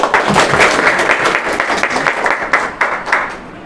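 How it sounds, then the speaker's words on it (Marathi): Enthusiastic applause for a guest at a quiz show held in a study hall, many hands clapping loudly and steadily with crowd noise, a few sharper bursts near the end. "सरांसाठी मित्रांनो जोरदार टाळ्या"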